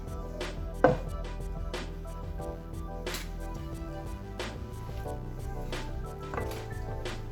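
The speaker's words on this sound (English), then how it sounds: "If you're using fresh, chop it up into bite-sized pieces" Fresh rhubarb chopped into bite-sized pieces on a cutting board for a sour cream coffee cake, a series of close knife thunks at an uneven pace, one sharp strike standing out, no talking.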